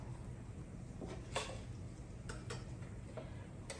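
Grease in a pan sizzles steadily and faintly around a frying hand pie, with a few light utensil clicks and scrapes scattered through the continuous low hiss.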